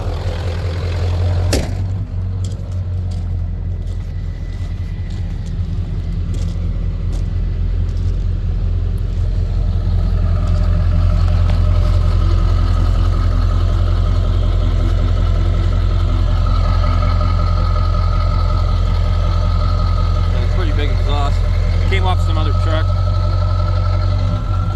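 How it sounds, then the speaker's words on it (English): Loud, steady rumble of an idling 1997 Ford F250HD 7.3 diesel 4x4, out of gear, with a faint whirring and ticking from a new throwout bearing riding on top throughout. "You hear the throwout bearing, even though it's new."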